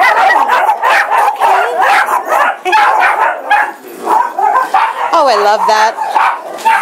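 A basset hound barks and yips in an animal shelter lobby, with loud, repeated barks and whimpers close by, mixed with people talking over them.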